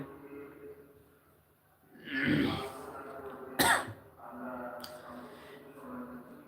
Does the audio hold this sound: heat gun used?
no